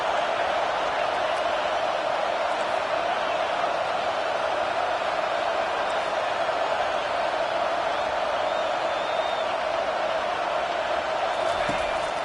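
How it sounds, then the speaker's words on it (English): A stadium crowd in a college football video game, heard as a steady, dense roar that holds evenly throughout, with faint whistles and shouts inside the wash. "Decibels rising as the crowd gets behind this defense on third down."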